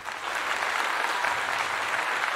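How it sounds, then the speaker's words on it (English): Steady applause, a sustained even wash of many hands clapping that holds for a couple of seconds, without speech. "I want to give him a clap."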